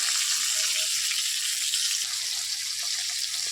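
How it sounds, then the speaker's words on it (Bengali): Steady hissing sizzle of fish frying in hot oil in a wok, a continuous bright crackle with a few soft clinks, no talking. "কড়াইটাতেই মাছটা ভাজি বসিয়ে দিয়েছি তো মাছটা আমার ভাজি হয়ে যাক"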